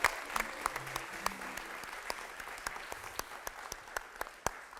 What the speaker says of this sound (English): Round of applause for Round Mel of and her applause for Mel and the amazing Rubens everyone